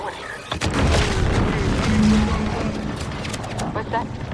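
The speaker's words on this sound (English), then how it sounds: "What's that? An explosion?" A deep explosion rumbles in The Outer Worlds 2, a sustained, loud boom with rolling low roar and scattered crackles lasting several seconds, with faint tones and movement in the background.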